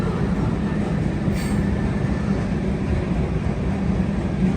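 A heavy train rumbles steadily past near an old power plant, a dense continuous roar with a faint high squeal rising briefly above it.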